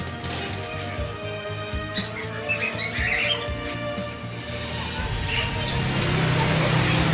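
Diamond doves and other caged birds at a busy bird market, scattered chirps and squawks over a steady crowd and traffic din, with voices in the background.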